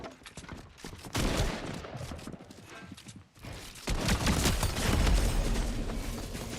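Rapid SMG bursts and heavier hand cannon shots ring out in a first-person shooter match, loud and dense, with a short lull before another sustained volley of gunfire.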